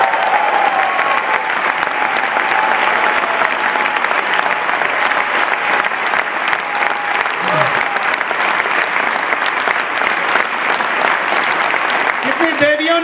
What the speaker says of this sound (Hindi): जोरदार तालियां किरण के लिए